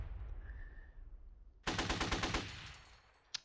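Automatic gunfire in the Steel Panthers war game, set in the 1980 Iran-Iraq war, with a low rumble giving way to a loud, steady machine-gun burst of about a dozen rapid shots, then a single sharp crack.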